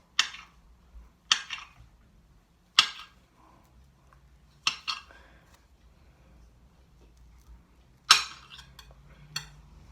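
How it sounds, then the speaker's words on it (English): A knife slices fruit on a board into small pieces, producing about six crisp, sharp chops spaced irregularly across the clip, close and clear against a quiet background. "you're just going to cut it up into slices"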